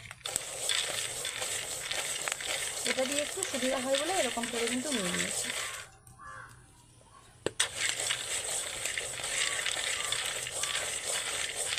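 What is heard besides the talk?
chickpeas dry-roasted without oil, stirred with coconut-husk bundle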